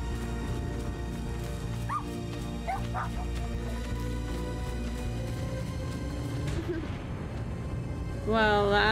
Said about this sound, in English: That dog is freaky cute though.